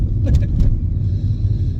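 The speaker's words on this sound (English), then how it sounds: "There's a lot of traffic here." Heavy road traffic gives a steady, close, low rumble of passing cars, with a brief voice cutting in near the start.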